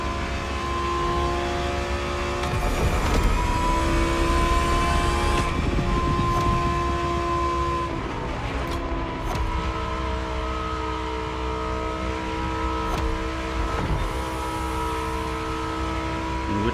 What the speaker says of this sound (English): You gonna push that car to its max speed or what?